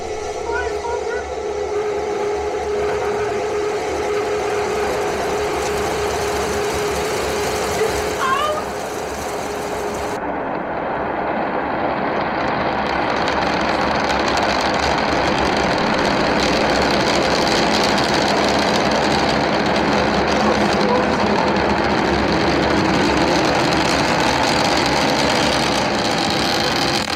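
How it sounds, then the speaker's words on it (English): Three Raptor rocket engines of SpaceX Starship SN9 fire during its test flight climb toward 10 km altitude, a steady broadband roar running continuously throughout, with a commentator talking over it. "all three Raptor engines at power. Starship climbing to 10-kilometer altitude"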